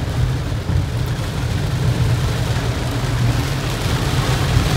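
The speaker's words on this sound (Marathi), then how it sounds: "खूप जोरदार पाऊस आहे एकदम" Heavy rain drums steadily on a car driving along the Mumbai-Goa highway, a dense continuous roar with a low rumble of road and engine beneath, loud and unbroken from start to finish.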